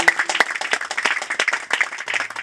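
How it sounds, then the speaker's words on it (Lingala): An assembly audience applauds a delegation, a dense burst of many hands clapping at once, steady and fairly loud throughout. "Acclamons, s'il vous plaît."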